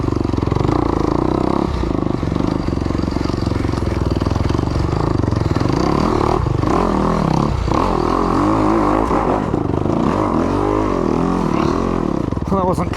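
A 2021 Kawasaki KX 250X dirt bike engine drones continuously throughout, loud and rough, with throttle changes and some clattering as the bike works through difficult terrain.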